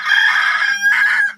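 A person imitating a rooster: a single loud crow, drawn-out and shrill, rising then breaking into a second strained note before cutting off.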